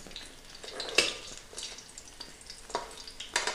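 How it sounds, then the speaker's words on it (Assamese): Stuffed bitter gourd (bhat kerela) frying in a pan on a low flame, a soft steady sizzle broken by scraping stirs and light clinks of a spatula against the pan, close and quiet with no talking. "ভাতকেৰেলাখিনি এতিয়া আমি লুটিয়াই চাওঁ লাহেকৈ"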